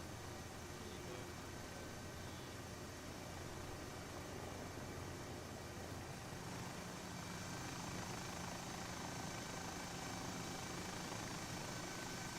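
A Boeing airliner in a flight simulator game produces a continuous, even jet-engine roar that holds steady throughout, with no voices.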